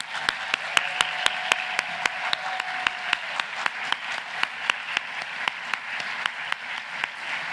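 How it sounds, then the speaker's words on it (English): Applause from a modest audience at an annual awards luncheon, with individual claps standing out sharply in a fairly sparse, steady rhythm, close and moderately loud. "Can we please take time again to give everyone a round of applause?"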